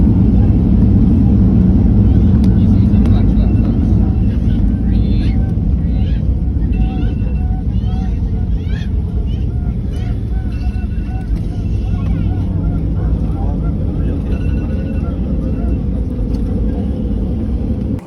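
An Airbus A380 on the runway during landing, heard from inside the cabin as a loud, steady roar and rumble that runs throughout, with faint voices beneath.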